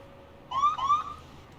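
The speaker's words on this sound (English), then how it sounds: "And an ambulance just left." Two short rising electronic siren whoops from an ambulance in the hospital management game Project Hospital, heard close and clear over a faint hum, with nothing after them.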